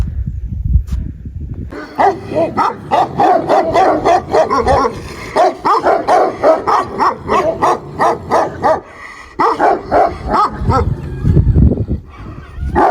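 Several dogs bark loudly and rapidly in close, repeated bursts, with a few yips and whimpers mixed in, after a brief quiet start.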